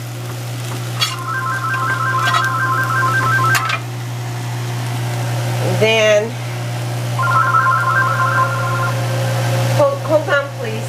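A mobile phone rings in a kitchen where tortillas are sautéing, giving two bursts of repeated electronic ring tones with a gap between them. A steady frying sizzle and hum run underneath, and a person speaks briefly near the end.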